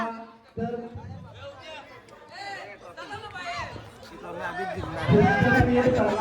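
Dense crowd chatter from spectators at a village box cricket night tournament held for Holi, many overlapping voices growing louder and busier toward the end.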